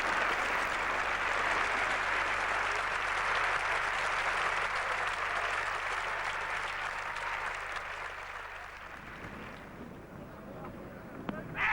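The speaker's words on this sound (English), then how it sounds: "the roar of applause coming from the ground" A large cricket crowd roars with sustained applause and cheering for a 50 partnership at Edgbaston, fading toward the end and leaving a quieter hum.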